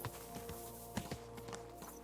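Horse hooves clopping in Kingdom Come: Deliverance II, a few soft irregular hoof thuds over a steady game ambience, fairly faint and without talk.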